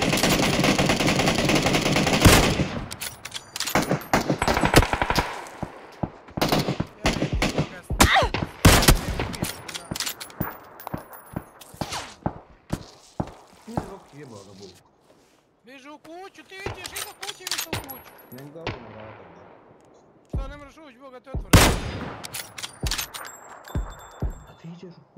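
Rapid bursts of automatic gunfire from the PUBG Mobile battle royale game on the Erangel or Sanhok maps crackle loudly and repeatedly, some shots sharp and metallic, with a player talking between the volleys.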